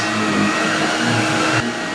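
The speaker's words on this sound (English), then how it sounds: "And that is how you vacuum a couch." A vacuum cleaner runs on a couch with a steady, close whirring motor drone that cuts off abruptly just before the end.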